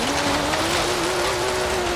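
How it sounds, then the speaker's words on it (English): Ferrari engine roaring steadily in the racing game Forza Horizon 3, a sustained loud drone with a slowly shifting pitch and light tire noise, close and continuous. "I think it was a Ferrari that went by."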